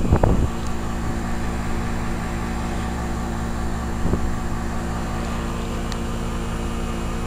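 Two 2005 Lennox straight-cool 3-ton air conditioning units, paired with gas furnaces, run with a steady close fan whir and compressor hum, broken by a brief clunk at the start and a faint knock midway.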